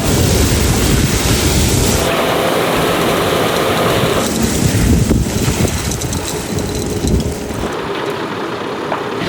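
A concrete pump truck pouring a concrete roof in Mexico, its engine running steadily with a loud broadband rush of pumping and wind, the level shifting between phases and no talk heard.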